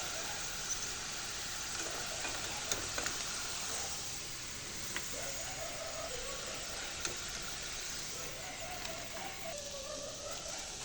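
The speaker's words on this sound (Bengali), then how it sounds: "কটকটিগুলো কিন্তু আমি লাল করে ভেজে নিয়েছি।" Wheat-flour katkati snacks frying in hot oil, fried until reddish, give a steady soft sizzle throughout with small clicks and scrapes of stirring, close by.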